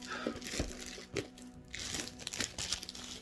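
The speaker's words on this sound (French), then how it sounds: "Je prends mes petits ciseaux. On va essayer de pas abîmer le packaging quand même" Small scissors cut and crinkle the plastic packaging of a Yu-Gi-Oh collection box, giving close, irregular crackles and snips over a few seconds.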